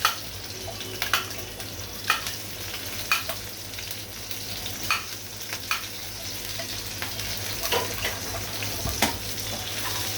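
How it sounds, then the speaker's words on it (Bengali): Green chillies frying and sizzling in a pan, a steady close sizzle with small pops and stirring clicks scattered throughout. "এখন দিয়ে দিচ্ছি আমি কাঁচামরিচ"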